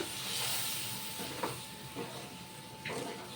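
Water poured into a pan of frying spice paste for an okra, potato and gram-flour curry sets off a steady broad hiss, with a few brief sharper spurts of sizzle.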